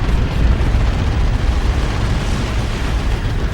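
Stick bomb explosions in a real-time strategy game: a dense, continuous roar of blasts and rumbling booms, loud and heavy in the low end, with no breaks over a few seconds.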